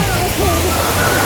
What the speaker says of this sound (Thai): ตรงนี้ก็จะเป็นน้ำตก